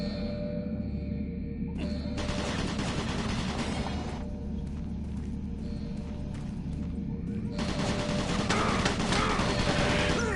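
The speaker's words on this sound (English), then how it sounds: "Warning. Automated turret guns online." Automated turret guns in Doom 3 firing in long rapid bursts, a steady mechanical hum underneath and intermittent loud rattling volleys separated by short gaps.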